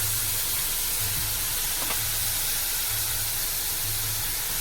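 Ground spices such as turmeric, coriander and cumin fry in oil in a pan, giving a dense, continuous hiss that stays even and loud throughout with no other sounds over it.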